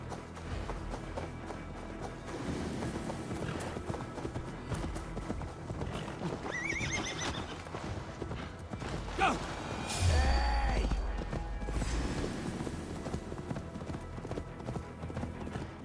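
Horse hooves clip-clop at a steady trot through a busy Assassin's Creed Valhalla game soundscape, with a horse whinnying partway through and scattered effects layered over the top.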